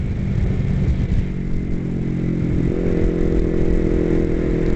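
A motorcycle rides through a sharp left corner, its engine droning loudly and steadily up close with a rising mid-pitched note as it carries on through the bend.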